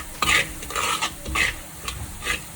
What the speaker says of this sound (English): I've got 5 sachets of powder to go in. Just stir that through.